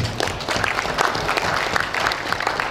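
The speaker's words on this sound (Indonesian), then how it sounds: "Tepuk tangan dulu buat beliau." A crowd at a university graduation ceremony in Riau applauds a guest professor, dense continuous clapping from many hands filling the hall, close and fairly loud with no talk over it.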